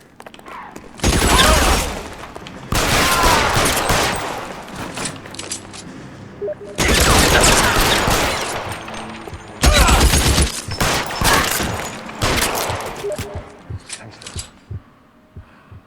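A shootout in L.A. Noire brings long, loud bursts of gunfire in several separate volleys, with brief shattering between them and lighter scattered shots as it tails off.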